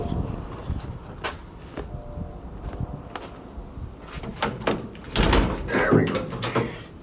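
Doors on an old, rotted Dodge truck being worked and moved, giving a few scattered knocks and rattles with a heavier clunk toward the end, heard up close in a workshop.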